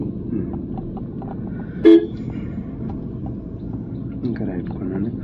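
A car on a driving lesson through busy traffic roads gives one short horn toot partway through, over a constant hum of the engine and surrounding traffic.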